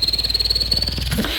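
A beatboxer mimics a chirping cricket in a rapid, regular pulsing trill with a thin high whistle over a low rhythmic thump, close and clear, ending in a brief shift at the close.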